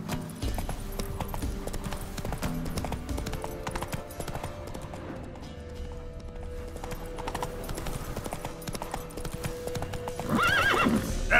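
Roach, the horse in The Witcher 3, clip-clops at a steady gallop, hoofbeats close and continuous, ending with a loud whinny near the finish.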